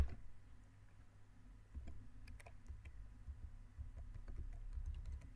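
Soft, scattered clicks of typing on a computer keyboard come in irregular bursts over a low background hum, faint and close, with no talking.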